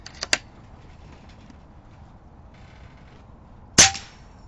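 An AirMaks Krait X air rifle fires at a target, giving one sharp, loud crack near the end. Two smaller clicks come earlier, over a quiet background.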